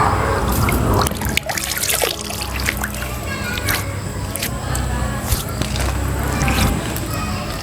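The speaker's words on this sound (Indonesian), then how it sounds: "saya akan coba membasuh muka dengan air Kadikjayaan yang ada di Desa" Spring water at a village ancestral shrine splashed onto a face, giving a steady close trickle and dribble with intermittent splashes throughout.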